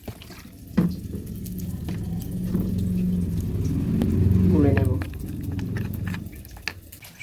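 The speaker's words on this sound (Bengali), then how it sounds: "এবার একটু জল দিয়ে গুলে নেব হালকা একটু জল দিয়ে দিচ্ছি" Water poured from a tap into a bowl of ground melon seed, mustard and green chilli paste: a splashing trickle that swells and then eases over several seconds, close by, with faint voice and kitchen clatter.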